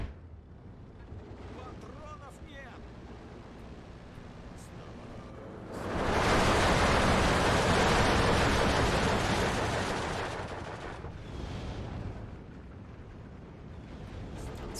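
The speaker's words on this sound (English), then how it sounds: "Mortars are firing away." Mortar fire in the Steel Division 2 war game, with a loud, dense burst of blasts swelling from about the six-second mark and fading out by twelve seconds over a constant low battle rumble.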